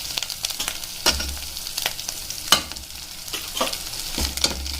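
Misal masala with red chili powder and turmeric fries in hot oil while a spoon stirs it, giving a steady crackling sizzle broken by sharp scraping strokes against the pan at close range, with no talking.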